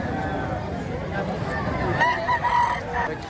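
A full stag rooster at a Batangas poultry market crows with a harsh, rising call near its end, over a busy background of murmuring voices and market bustle.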